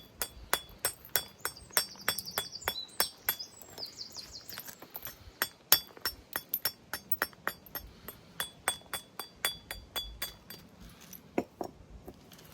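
Sharp knapping strikes of a granular stone hammer on Le Grand Pressigny flint ring out in a steady series, each a crisp click, with faint birdsong in the background.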